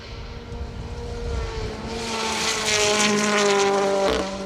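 Rally car on a fast gravel stage of the Carlisle Stages Rally, engine note rising as it approaches and roars past, loud and close over open-air ambience.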